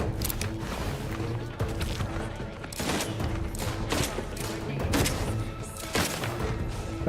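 Gunfire during combat in The Outer Worlds 2, a run of heavy shots and booming impacts that repeat at irregular intervals over dense game noise.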